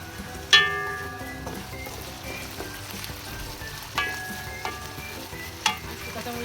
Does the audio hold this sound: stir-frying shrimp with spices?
yes